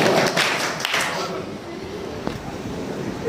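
An audience at an Urdu mushaira bursts into loud clapping, which dies away after a second into scattered taps and a soft murmur.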